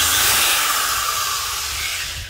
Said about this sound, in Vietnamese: Số 12 là một con khoan gỗ